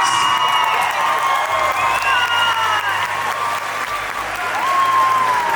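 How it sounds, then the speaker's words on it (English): An audience at a bodybuilding competition applauds and cheers the competitors with loud, sustained clapping and whoops, and a high whistle-like tone runs through the crowd noise. "A round of applause for all competitors."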